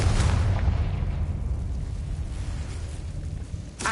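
Confringo blasting-curse explosion in Hogwarts Legacy: a heavy booming blast with a low rumbling tail that slowly fades, followed by a second sharp burst near the end.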